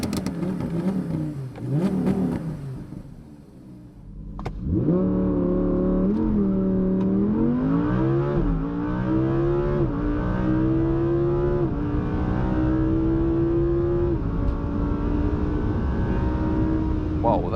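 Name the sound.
Audi R8 V10 Plus exhaust in performance racing mode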